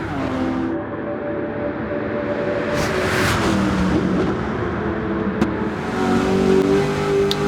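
A Ford Mustang Boss 429 with a 7-litre V8 races in Gran Turismo 7, its engine note loud and sustained, rising and falling through gear changes with a sharp click partway through.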